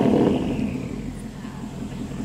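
A Porsche Cayenne Turbo with straight-piped exhaust rumbles loudly and steadily nearby, a deep continuous engine drone with no voices over it.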